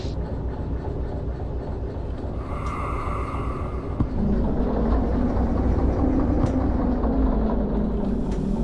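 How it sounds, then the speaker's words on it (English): A locomotive rumbles along in the Derail Valley train simulator game, a low, steady mechanical drone with a brief higher tonal hiss partway through before the engine noise swells slightly. "let me drive the train."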